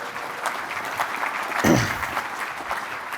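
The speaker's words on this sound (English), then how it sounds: "Give her a round of applause, everybody." An audience applauds a guest named Blair as she joins the host on stage, a moderate crowd clapping steadily with a brief louder swell midway.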